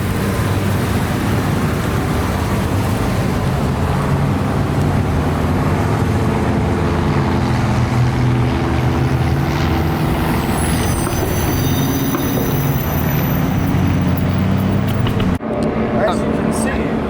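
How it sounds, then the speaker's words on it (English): A city bus pulls into an LA Metro station, its engine rumbling loud and steady for the whole stretch, with a hiss of air brakes as it comes to a stop. "As you can see, a bus is arriving."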